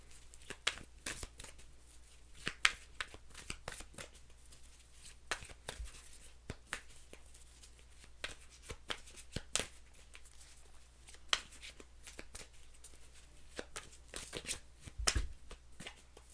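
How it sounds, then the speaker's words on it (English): Someone shuffles a deck of tarot cards for a long stretch, producing quiet, irregular crisp clicks and riffling snaps with no talking. "I might have to shuffle some more."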